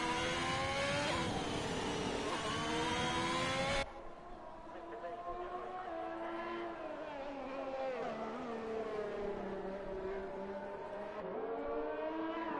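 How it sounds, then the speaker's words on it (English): Race cars lapping a circuit in a Belgium round of a racing league, engines whining and shifting pitch as they rise and fall through gears, steady and loud throughout, with an abrupt change in tone early on. "Hopefully you guys can hear the cars"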